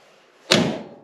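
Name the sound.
car door closing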